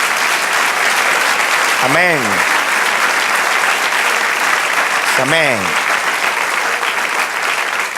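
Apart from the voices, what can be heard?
applause from church congregation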